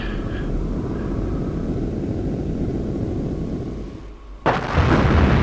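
A Maverick missile explodes on a tank in the Eurofighter EF2000 flight game: a steady, loud low rumble of engine and blast noise that dips briefly, then a sudden sharp boom breaks in near the end.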